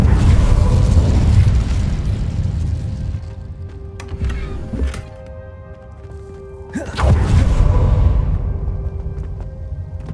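A fire spell is cast in a magic adventure game with a loud explosive whoosh and roar that fades, followed by a second flaring burst, under ringing tonal effects.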